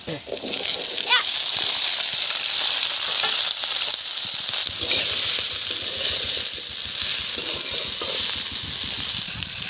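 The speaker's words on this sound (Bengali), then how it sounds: "ভাজা হয়ে গেছে এখন সবজি ঢেলে দেবে" Vegetables, Malabar spinach greens, hit hot oil with already-fried prawns, producing a continuous close sizzle with faint stirring and sloshing, while a voice murmurs in the background.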